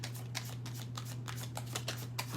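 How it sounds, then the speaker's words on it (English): Tarot cards riffle and slap together in steady, close shuffling, with a low electrical hum underneath and no talk. "I'm gonna finish the shuffle and let me see."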